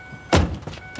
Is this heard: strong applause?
no